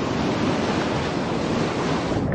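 Rough ocean surf churns loudly and steadily, a dense, continuous roar of breaking waves with heavy wind noise over the microphone and no voices.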